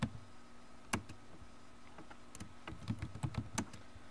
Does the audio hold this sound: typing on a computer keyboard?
yes